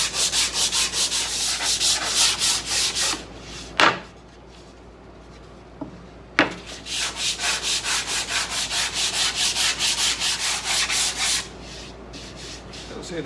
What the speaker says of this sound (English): I'm just sanding until there's no evidence of glue.